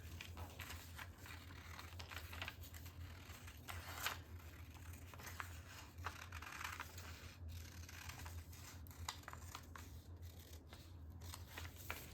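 Scissors trimming quilted fabric for a makeup bag, a soft run of close snipping and rustling cuts going on steadily over a low background hum, with no talking.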